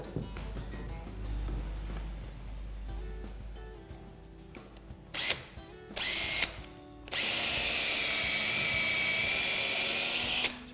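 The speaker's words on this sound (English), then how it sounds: "we're going to pilot the timber first, which is going to stop the timber from splitting when we put the screw in" A power drill boring a pilot hole through a first timber into a second while building a stud wall, whirring steadily, briefly stopping and restarting, then running loud and continuous near the end.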